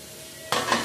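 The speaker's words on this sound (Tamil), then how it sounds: "இதே நல்லா வதக்கிக்குவோம்" Tomato, curry leaves and green chillies hit softened onions in a pan for sautéing, and a fresh sizzle bursts in after a quiet moment. The sound is brief and close.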